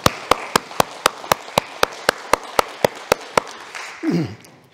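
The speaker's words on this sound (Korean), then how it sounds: "우리 영광의 박수 하나님께 크게 한번 올리겠습니다" A congregation at a Korean church Sunday service in Berlin claps in unison, about fifteen sharp, evenly spaced claps in a brisk steady rhythm, then a brief low rumble as it ends.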